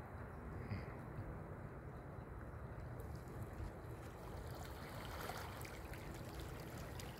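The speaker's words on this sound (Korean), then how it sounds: "잔잔한 물소리, 파도 소리." Gentle water lapping and soft waves washing steadily on the Yellow Sea shore at sunset, a continuous quiet hiss and wash with no voices, calm and fairly close.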